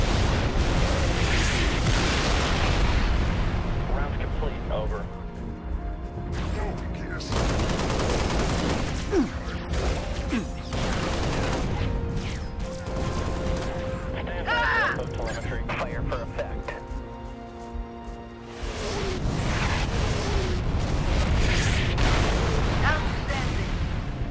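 Halo Reach video game combat, with rapid gunfire bursts and heavy booming explosions filling the scene, mixed with game dialogue and voices.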